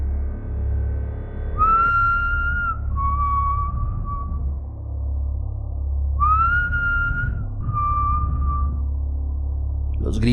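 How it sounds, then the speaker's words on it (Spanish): A man whistles two clear, drawn-out two-note phrases, each rising then holding steady, close and fairly loud above a low, constant hum. "comenzó a silbar."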